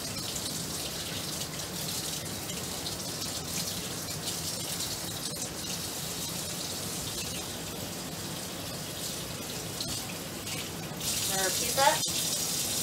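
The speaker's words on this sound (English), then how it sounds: "just rinsing down to my elbow." A faucet runs steadily into a sink while hands and arms are rinsed down to the elbows during a veterinary surgical scrub, a close continuous splashing that grows slightly louder near the end, with no talk.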